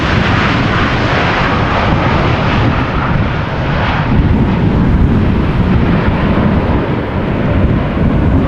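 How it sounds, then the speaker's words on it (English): A Boeing 777 taking off at Amsterdam Schiphol in gusty crosswinds: a loud, continuous roar of jet engines at full thrust, rumbling and dense throughout with no voices. "And it looks like another triple just took off."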